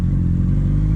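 Honda CB 650F motorcycle fitted with a sport exhaust, riding in the city: a loud, close, deep engine drone with a steady low rumble throughout.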